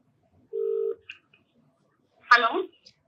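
Telephone keypad dialing tones placing a call, a steady beep followed by shorter tone blips, close and clear, then someone briefly speaks.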